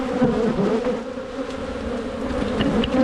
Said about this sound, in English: That's certainly a lot of bees flying around.